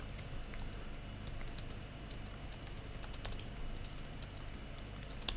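Soft, steady tapping of keys on a computer keyboard while typing a chat message, quiet and close, with no talk.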